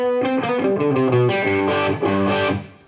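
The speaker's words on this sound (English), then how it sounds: "That's the overdrive channel." An electric guitar played through an amp's overdrive channel with a little reverb, a short distorted phrase of chords and notes that rings out loud and then fades.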